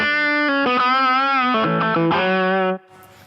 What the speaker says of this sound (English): So that's just the amp now in the dirty channel.